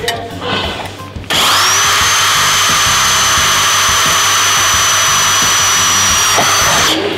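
A loud power drill whirs steadily for several seconds after a brief quiet start, then spins down at the end, drilling a small guide hole while fitting a motorised cassette roller blind.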